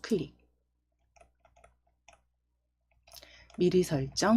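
A mouse clicking to pick a preset in PowerPoint gives a few faint, sparse clicks in a quiet stretch, with a Korean voice speaking at the start and again at the end.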